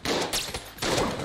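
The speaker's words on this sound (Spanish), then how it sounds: "Y al final lo que mejor me funciona es la escopeta." A shotgun fires in the video game Enter the Gungeon, giving a few loud, booming blasts in quick succession over a short, dense stretch of game noise.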